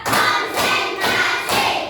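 A school class claps hands together in a steady counting rhythm, four loud, even bursts of group applause in quick succession.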